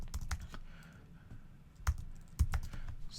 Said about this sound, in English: if we type torrent